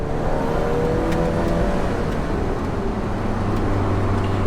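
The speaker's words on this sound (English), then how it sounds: "listen to this little engine, huh?" An Alfa Romeo 4C Track Edition's small engine runs under load, a steady droning growl with a rising revving tone, heard from inside or close to the car with no talk over it.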